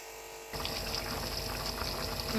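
Water for aloo matar pulao, with the rice added, begins to boil in a cooking pot. A steady, close bubbling hiss starts abruptly and keeps going at an even level.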